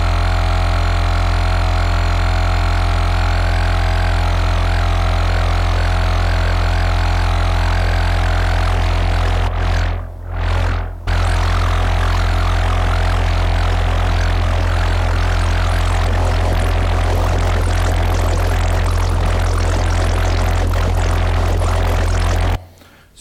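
A synthesizer note from a segment synthesizer, held loud and steady with strong low harmonics while a drift effect is gradually added, briefly cutting out twice near the middle before resuming and stopping at the end.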